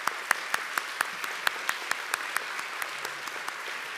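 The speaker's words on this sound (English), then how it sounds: "So let's give them a round of applause." Audience applause during a midweek Baptist church service, a modest room of people clapping in a fairly even, moderate rhythm for a few seconds with no talk over it.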